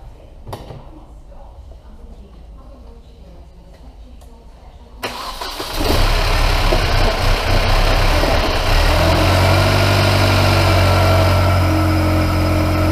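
A Mini Cooper S track car engine cranks and catches, then settles into a loud, steady idle with a low rumbling drone.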